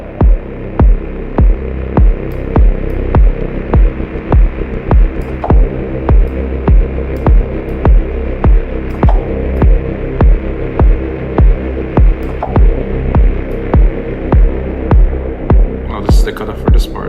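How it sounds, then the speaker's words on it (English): A static, wind-like synthesizer hiss sits over a steady, throbbing deep-techno kick pattern with a low humming bass, loud and continuous, with no voice. "This kind of static wind kind of thing."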